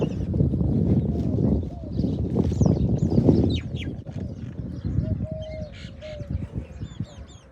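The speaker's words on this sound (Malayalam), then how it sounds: "ഈ മരത്തിലെല്ലാം ഇഷ്ടംപോലെ കിളികളുണ്ട് കേട്ടോ" Many birds calling from the trees, a dense chorus of chirps and short whistles layered over steady, rustling outdoor background noise throughout.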